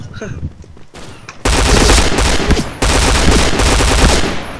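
Loud, rapid automatic gunfire from the online shooter game Point Blank, coming in two long sustained bursts with a short break between them after a quieter opening.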